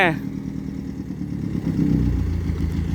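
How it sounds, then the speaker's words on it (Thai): A loud, rumbling diesel engine of a Komatsu PC100-5 excavator with harsh exhaust, steady and close, swelling slightly toward the end with a clattering mechanical undertone. "ทำไมท่อมันลั่นเหลือเกินนะครับสำหรับ FC คันนี้นะครับ"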